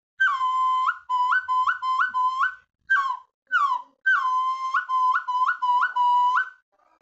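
A series of clear, tuneful whistles from a jacaranda-wood hunting call for deer, repeated in quick bursts, each a rising-then-falling note, played close and loud with short pauses between groups.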